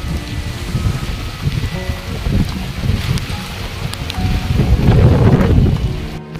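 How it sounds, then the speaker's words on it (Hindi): Heavy rain in Jammu pours steadily, close and loud, with low rumbling swells that build toward the end. "इतनी बारिश देखो कैसे हो गई है"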